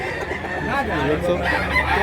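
Roosters crow repeatedly at a busy chicken market in Mantalungon, Cebu, their rising calls overlapping in a steady crowd din with voices mixed in.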